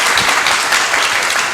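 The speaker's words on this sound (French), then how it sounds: "applaudissements pour celui qui est venu de Cannes" Studio audience applauding on a television talk show, a dense, loud, continuous burst of clapping with no talk over it.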